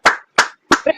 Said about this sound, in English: can we please give a round of applause for Miss Lashia?